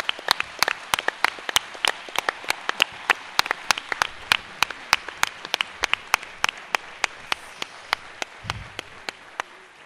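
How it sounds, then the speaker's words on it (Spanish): Sparse, evenly spaced hand claps ring out sharp and clear at a 30th-anniversary event for a genetic data bank, more like a few people clapping steadily than a full crowd, with no talk over it. "Bueno, Chan, aplausos"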